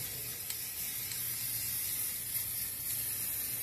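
Primer paint sprayed from a can onto a plastic playset, a steady close hiss that runs continuously with no talking.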